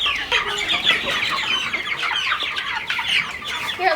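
Meat chickens on pasture clucking and chattering continuously, a dense, close flock of overlapping calls with no speech.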